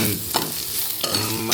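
Prawn ghee roast masala fries in a pan as a spoon stirs it, a continuous close sizzle broken by a few quick scraping strokes.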